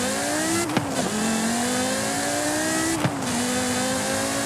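A Porsche Carrera GT engine in the racing game Forza Horizon 5 drones at steady high revs, its tone climbing gradually with two quick dips for gear shifts, loud and continuous, with no voices.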